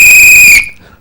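A single loud, shrill whistle blast rings out close for about half a second, then cuts off and fades into silence.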